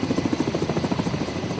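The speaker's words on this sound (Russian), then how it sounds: "Помимо истребителей, на крейсере базируются вертолеты К-27." Ka-27 naval helicopter based aboard an aircraft-carrying cruiser, its rotor producing a steady rhythmic low thumping throughout, moderately loud with no voices.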